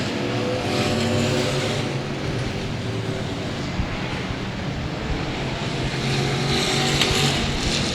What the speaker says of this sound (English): Got a lot of cars going through 1 and 2 right now.